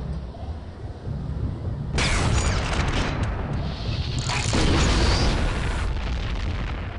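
Red Riot nuke weapon blast in the video game Shogo: Mobile Armor Division, a loud, sustained roaring explosion that erupts suddenly and keeps rumbling with a second surge before slowly easing, with no talk.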